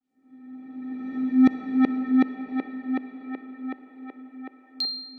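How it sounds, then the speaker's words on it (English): A ping-pong delay effect in Ableton repeating a short tonal note as a train of evenly spaced echoes about a third of a second apart, gradually fading, followed by a brief high beep near the end, clean and isolated with no talking. "you end up with a ping-pong delay"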